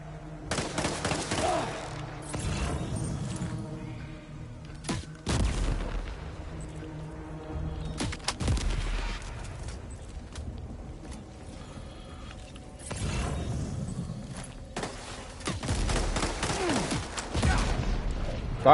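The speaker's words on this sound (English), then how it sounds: "We've got the grenade pistol. Grenade pistol." Grenade pistol shots in Death Stranding 2: On The Beach, several loud blasts and explosions spaced a few seconds apart, each followed by rumbling debris, set against game music and ambience.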